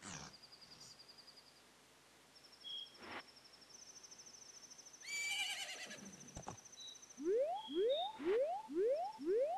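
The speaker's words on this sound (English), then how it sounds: "That's like what a horse whinny noise is." Several horse whinnies from a video game, the last part a quick run of repeated rising neighs, set among game chimes, soft rustling and ambient insect-like chirps.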